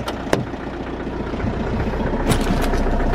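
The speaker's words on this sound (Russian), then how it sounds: "Трактор завелся." A tractor engine idles steadily, a loud close low rumble with a couple of sharp clanks, running alone without any voices.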